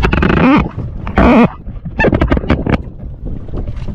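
Wind gusting and waves slapping around a small boat out at sea, with a south wind and choppy water; loud bursts of buffeting and splashing come and go in uneven pulses.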